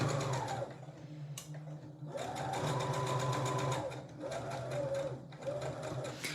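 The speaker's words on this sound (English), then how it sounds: "I'm just going to go over and do my 3 stitches forward, 3 stitches into reverse and forwards again" A sewing machine runs in several short bursts, stitching forward, reversing and going forward again, with brief pauses between runs at close range.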